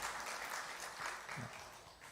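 Church congregation applauding to welcome a new member during a Sunday worship service: a brief, soft patter of clapping from a seated crowd, steady and fairly distant.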